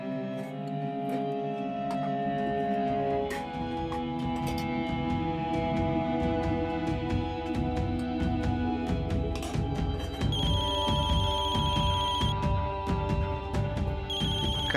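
A phone rings with a repeating electronic ringtone melody at a steady, moderate level, layered over a continuous musical background in a home dinner scene, with no speech.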